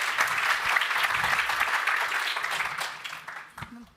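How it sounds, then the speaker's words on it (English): Audience applauding panelists at the close of an insurance conference session on generative AI, a dense burst of clapping that holds steady and then tapers off, ending with a brief voice. "I want really that we give a round of applause for our panelists of this evening"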